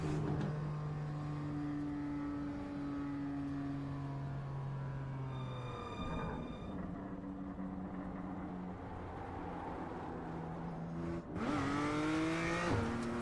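A Mazda MX-5 engine hums steadily from the cabin. Its pitch drops at one point, settles, then rises sharply again as the revs climb near the end, with no voices over it.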